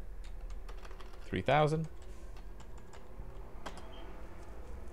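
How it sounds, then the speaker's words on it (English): Short taps on a computer keyboard, a few light scattered keystrokes close by, with a brief spoken word partway through. "type in localhost"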